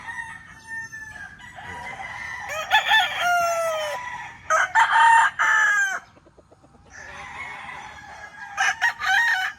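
Stag roosters crow repeatedly in a close, overlapping series of loud cock-a-doodle-doo calls, with one brief quiet gap before more crowing resumes.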